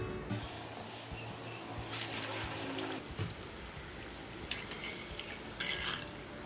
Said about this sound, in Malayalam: ഇതിനി ചൂടായ എണ്ണയിലേക്ക് ഇട്ട് കൊടുക്കാം.